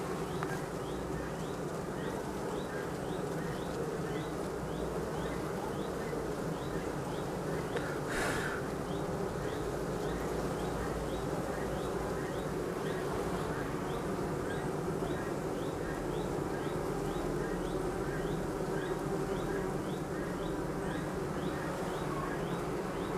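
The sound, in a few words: young honeybees buzzing at a hive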